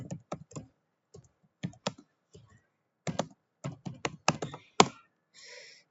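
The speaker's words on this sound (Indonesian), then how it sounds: "ketik SH untuk mematikan interface yang kita masukkan tadi" Commands typed on a computer keyboard, heard as close, crisp keystrokes arriving in short bursts with pauses between, ending on a firm tap.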